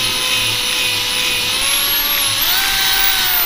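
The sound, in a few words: power drill drilling a hole through a table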